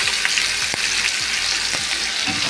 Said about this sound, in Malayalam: വേപ്പില. നന്നായിട്ട് ഫ്രൈ ആയിട്ടെ.